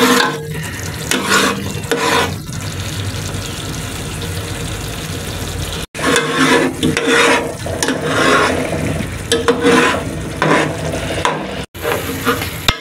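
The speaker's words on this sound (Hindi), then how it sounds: "जब तक इसमें से घी अलग नहीं हो जाता हम इसको भूनेंगे" Onion-tomato masala frying in ghee in a pan for an egg and spinach curry, loud continuous sizzling broken by scraping stirring strokes and two brief gaps, with no voices.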